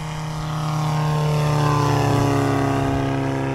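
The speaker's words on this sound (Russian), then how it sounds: "за сколько 56 лошадиных сил дизельного двигателя Peugeot разгонят эту машинку" A Gaz'Aile 2 light propeller aircraft with a 56-horsepower Peugeot diesel engine drones loudly and steadily close by during takeoff, the pitch rising slightly as it builds power.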